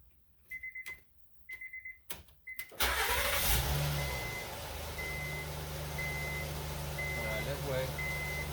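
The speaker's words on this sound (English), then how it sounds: "So let's turn on the car." A 2011 Honda Pilot raised off the ground: several rhythmic warning chimes precede the starter, then the engine catches and settles into a steady idle with a faint repeating beep continuing over it.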